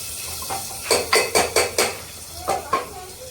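Carrot halwa stirred in a metal pan, a spoon knocking and scraping in about seven distinct close strokes with short pauses between.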